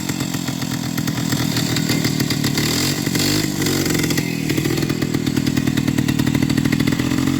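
A 1953 Peugeot 125 type 55 motorcycle engine runs loud and close, a continuous rapid two-stroke buzz that rises and falls slightly with throttle, with the starter still on.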